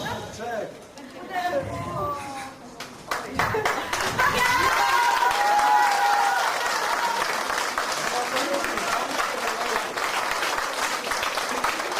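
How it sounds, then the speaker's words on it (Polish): Wedding guests applaud in a sustained burst of clapping that builds after a few seconds and holds steady, mixed with crowd chatter and a voice near the start. "proszę o gorące brawa"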